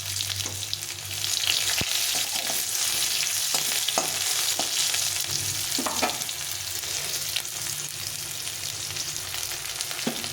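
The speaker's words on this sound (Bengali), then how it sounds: "সাদা জিরে ফোড়ন দিয়ে দেবো। একটু পেঁয়াজ দিয়ে দেবো হালকা করে।" Onion sizzles in hot oil with cumin seeds, a bay leaf and a dried red chili, a steady loud frying hiss broken by occasional sharp clicks of a spatula against the pan.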